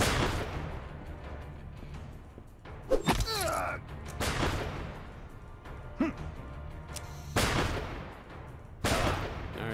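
Gunfire in the Empire of Sin video game, several sharp loud shots and thuds spaced irregularly across the scene, with brief voices between them.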